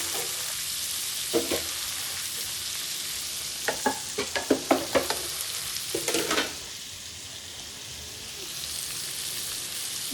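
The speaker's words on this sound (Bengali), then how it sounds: "আর একটু নাড়া দিই।" Spices and ginger-garlic being stirred in a pan with a spoon, several short scraping clusters over a faint steady sizzle, the strokes close and clear with no talking.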